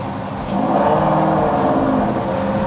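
A 1976 Ford F100 pickup truck's engine revs up strongly on kickdown and holds a loud, rising drone, close by, with a steady whirring tone.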